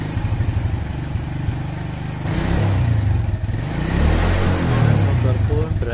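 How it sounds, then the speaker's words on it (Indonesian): A 2006 Suzuki New Smash 110 motorcycle, just fitted with a new regulator rectifier, starts and settles into a close, steady putter with rising revs partway through and speech over it. "Motor pun berhasil hidup kembali"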